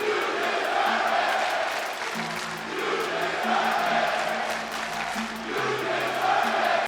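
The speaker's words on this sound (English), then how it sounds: "the roaring crowd reaction that he received went over the roof" A WWE arena crowd roaring for Bray Wyatt, dense sustained cheering and chanting from a large audience, loud and continuous with swelling waves throughout.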